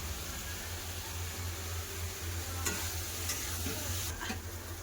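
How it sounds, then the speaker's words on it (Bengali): Fried potatoes are stirred in hot oil in a pan for an egg and potato curry, with a steady close sizzle and a few scraping strokes of the spoon, and no one speaking. "ভেজে রাখা আলু দিয়ে দেবো আলু দিয়ে তিন চার মিনিটের মতো আবার কষে নেবো"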